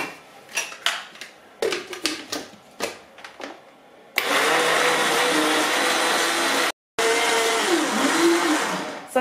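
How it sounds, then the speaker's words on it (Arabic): A kitchen blender grinds cake batter ingredients. Short clattering bursts come first, then a loud, sustained whirring roar with one brief cutout, close and alone with no talking. "غادي نزيد واحد فاني، وغادي نطحن كل شيء مزيان"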